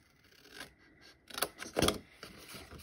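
Scissors cutting paper for a Stampin' Up! black and gold craft card, a few crisp close snips bunched near the middle, quiet and alone.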